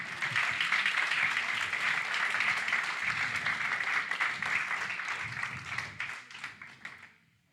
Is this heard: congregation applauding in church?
yes